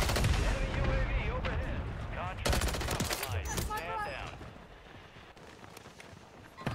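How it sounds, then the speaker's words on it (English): Gunshots in a video game, rapid loud cracks and bursts of fire near the start, mixed with game sounds and excited voices talking over the action before fading quieter. "Nice shot from Jack."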